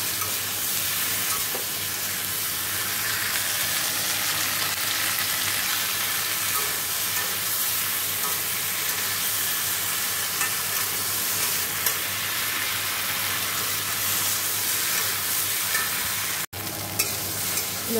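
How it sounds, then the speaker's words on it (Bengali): Okra frying in a kadai on a home stove, a steady close crackling sizzle with stirring that holds through the whole stretch, with a brief knock near the end. "দেখো ভেন্ডিটা ভাজা হচ্ছে"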